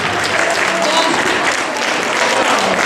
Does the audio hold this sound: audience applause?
yes